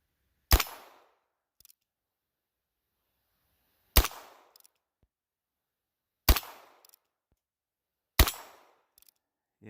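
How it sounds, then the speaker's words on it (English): Four sharp, loud shots from a Heritage Barkeep .22lr revolver firing Winchester rounds, evenly spaced about two seconds apart, each followed by a short fading ring and a faint mechanical click of the action. "Just shooting some crappy Winchester."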